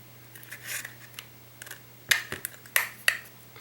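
Scissors cutting through unexpectedly hard plastic along a seam line, giving several sharp, close snipping cracks spaced irregularly with quieter rustles between them.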